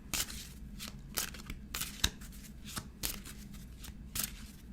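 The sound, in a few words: shuffling and pulling tarot cards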